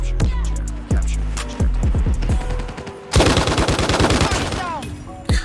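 RAAL MG machine gun firing in the mobile game Call of Duty Mobile: loud, close bursts of rapid automatic shots, short volleys at first, then a dense sustained stream of fire after about three seconds.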